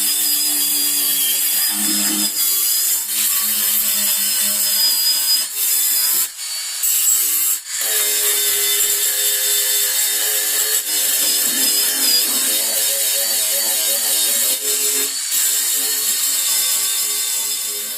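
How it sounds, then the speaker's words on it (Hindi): An angle grinder fitted with a flap disc sands down wooden furniture parts, making a continuous loud, steady whirring grind with a few brief dips as the disc lifts off the wood. "पहले हम एंगल ग्राइंडर की मदद से ये जितने भी पार्ट्स आपको दिख रहे हैं इसको थोड़ा सा हम स्मूथ कर लेंगे"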